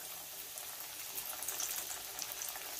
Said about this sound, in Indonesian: Kita goreng. Kita masukkan satu per satu ke dalam sini.